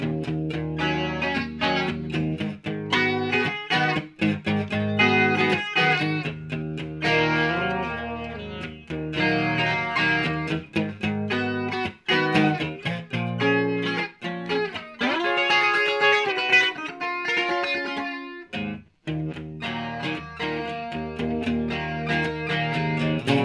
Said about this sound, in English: That's with the distortion unit.